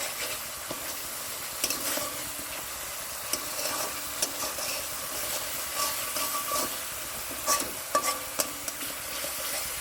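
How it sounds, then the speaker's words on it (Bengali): Bitter gourd is stirred in a frying pan for a milk-based korola dish, a continuous close sizzle and hiss with intermittent scrapes and clicks of the spoon against the pan. "ভালো করে নাড়াচাড়া করে মিশিয়ে দিচ্ছি।"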